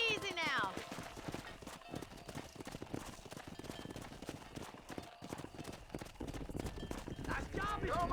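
Horse hooves clip-clop at a steady trot in Red Dead Redemption 2, with a short whinny at the start and another near the end, while a voice talks over the riding.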